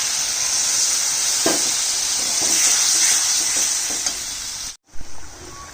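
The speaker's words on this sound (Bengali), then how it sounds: "মাঝে আমি 2-3 বার জল দিয়ে কষিয়ে নিয়েছি, জল দিয়ে দিচ্ছি" Prawn curry sizzles loudly in a pan as water is poured in and stirred, a steady hiss with occasional clatters before a sudden brief drop near the end.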